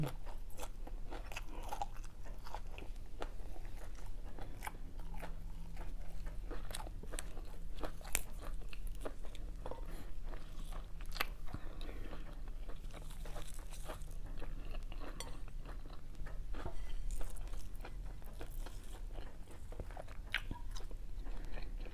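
Close, steady crunching and biting as crisp fresh vegetable leaves are chewed alongside moo nam tok, the wet crackle repeating in quick uneven bites with almost no talking.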